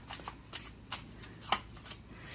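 Tarot cards are shuffled and drawn by hand in a quiet room, soft close riffling and papery flicks in a series of light, uneven bursts, with one sharper snap near the middle.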